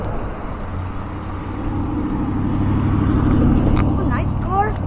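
A car passes along a street in England, its engine rumble swelling steadily as it approaches, close and fairly loud, with people nearby.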